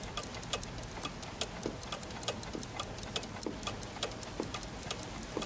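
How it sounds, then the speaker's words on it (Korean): Clock ticking as a sound effect in an audiobook, a steady even tick-tock repeating about twice per second, crisp and close, continuing alone without speech. "그것은 마크 하임의 귀청을 때리며 째깍째깍하는 시계소리와 뒤섞였다."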